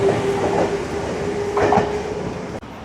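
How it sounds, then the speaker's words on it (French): A T10 tram pulling into its terminus in Île-de-France, a loud steady rolling rumble with a sustained tonal whine and faint wheel clatter, cut short by an abrupt drop near the end. "Et ce sera le tram T10 le prochain. D'ailleurs, il arrive, là, il pointe le bout de son nez."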